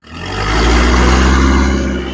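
New Kubota MU 4501 tractor pulling a plough at full throttle in a field, its diesel engine swelling into a heavy, steady labouring drone with a deep low rumble, close and loud, no talk.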